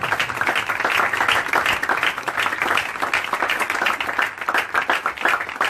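A church congregation at a crusade gathering claps and applauds steadily, dense, loud and sustained, with a few voices mixed in.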